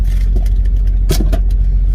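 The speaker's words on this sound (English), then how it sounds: "When you jump in, can you start the truck?" A truck's engine running loud and close, a steady low rumble with a few uneven revs and rattles over about two seconds.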